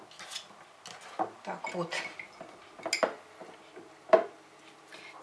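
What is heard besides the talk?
shaking a jar of tomatoes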